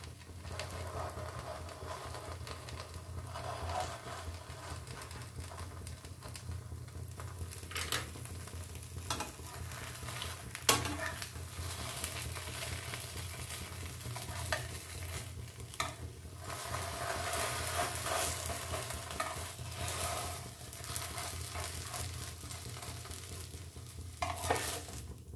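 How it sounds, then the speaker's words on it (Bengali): Patisapta pitha, a Bengali filled crepe, frying in a pan with a little oil: a continuous close sizzle with occasional scrapes and taps of a spatula, steady throughout with no talking. "এইভাবে আমি একে একে সব পিঠেগুলো ভেজে নেব।"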